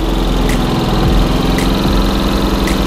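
Close, loud and steady idle of an iGen 4500 DF dual-fuel portable generator running slowly in eco mode, a constant low engine throb with faint periodic ticks and no voices.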